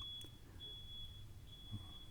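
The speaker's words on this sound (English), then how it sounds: "There would be a fantastic beeping at this moment." A thin, steady electronic beep tone sounds repeatedly over a low background hum, faint and close.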